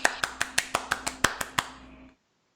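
A butler claps about ten times in a quick, steady rhythm, each sharp slap close and distinct, before the clapping stops abruptly into silence.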